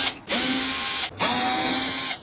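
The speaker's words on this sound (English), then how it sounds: "Let's pop these screws out." A power driver spins screws out of an Andersen window crank assembly in two whirring bursts, each just under a second long, with a short pause between them. The sound is close and fairly loud, and no one speaks.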